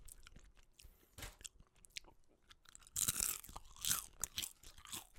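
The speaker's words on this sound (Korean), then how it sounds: "아 이놈아는 좀 바삭바삭." Crispy-skinned fried chicken chewed up close, with soft crunches early and then louder bursts of crisp crunching, with no talking.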